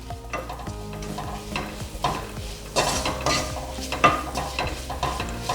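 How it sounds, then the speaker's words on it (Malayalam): Chili powder, garam masala and ground pepper stir-fried in a pan over low flame, with steady sizzling and repeated scraping stirs of a spoon, close and fairly quiet. "ഇനി നമുക്കൊരു 2 മിനിറ്റ് ഇത് നന്നായിട്ടൊന്ന് വഴറ്റി കൊടുക്കാം."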